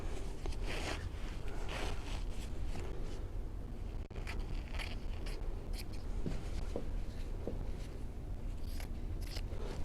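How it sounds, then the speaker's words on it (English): Scissors snip through a piece of quilting fabric for a table topper, a series of short crisp cuts and rustles close by, with light handling noise and no talk. "I can cut a piece of this off because I know where I'm going to be stitching."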